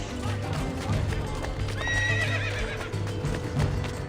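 Horse whinny with clip-clop hooves during a dismount in Assassin's Creed Brotherhood, a clear neigh rising midway over steady game ambience and background rumble.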